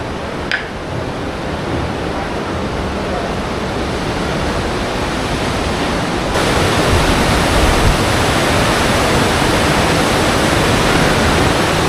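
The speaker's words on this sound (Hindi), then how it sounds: "नीचे की तरफ से बह रही है नदी और साथ में धुआं भी उठ रहा है।" A river flows beside the hot springs at Manikaran, a loud, steady rushing wash of water that runs without a break and swells slightly louder halfway through.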